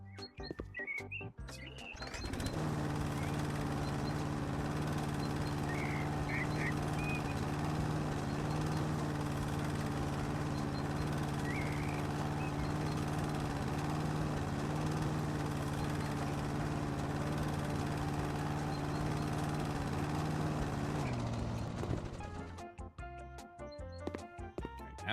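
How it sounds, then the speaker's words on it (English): A steady engine drone runs for about twenty seconds from the lawnmower in the video game House Flipper, starting and stopping abruptly, with faint bird chirps in the background. "let's go ahead and break out the lawnmower"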